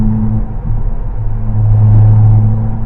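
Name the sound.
Tesla car tires driving over a highway rumble strip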